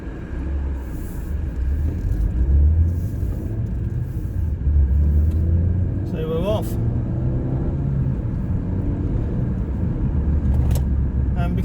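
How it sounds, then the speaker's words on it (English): Traffic rumbles close by as several cars drive past one after another, their engines swelling and fading over a constant low road noise. "Every car in the world decided to come along."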